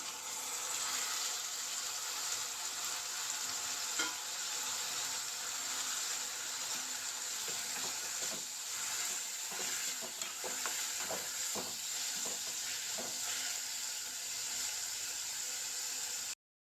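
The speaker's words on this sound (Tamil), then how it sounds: "தக்காளி கொஞ்சம் நல்லா வதங்கணும்." Onions and tomatoes with turmeric and salt sauté in a pan for tomato thokku, a continuous close sizzle broken by scattered clicks and scrapes of stirring, with no voices.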